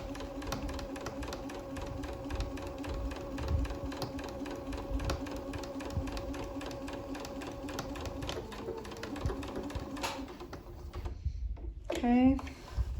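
A sewing machine stitches a medical mask with a filter pocket, a steady rapid mechanical whir for about ten seconds before stopping for a back stitch, then a brief squeak as it pauses; someone speaks briefly.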